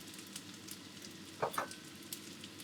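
Shiitake mushrooms sauté in a hot pan, giving a soft, steady sizzle with a couple of brief louder crackles partway through; no voices.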